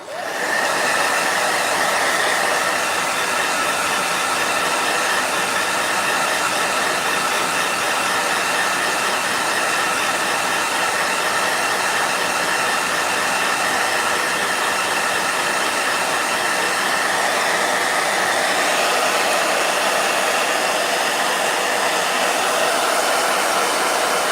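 A blow dryer runs continuously at close range, a loud, steady whirring roar with a high whine on top that holds unchanged from start to finish.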